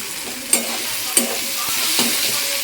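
Curry masala sautéing in a pan, a low continuous sizzle punctuated by three or four crisp scrapes of a spoon stirring against the metal.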